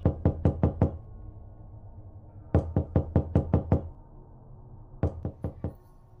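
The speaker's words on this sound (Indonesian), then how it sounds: "terdengarlah suara ketukan pintu" Knocking on a door comes in three bursts of five to six sharp raps each, separated by quiet pauses, fairly close and alone without voices.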